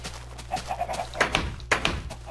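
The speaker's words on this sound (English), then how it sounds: "Dear God, there's so many chickens." Chickens cluck in the blocky sandbox game Minecraft, giving several short, soft calls scattered among dull thunks and other game noises, with no one talking.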